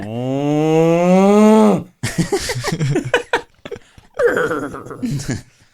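A man imitates a cow with a long, drawn-out low moo, followed by spoken voices and a laugh.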